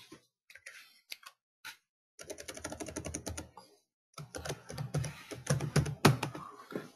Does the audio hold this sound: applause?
no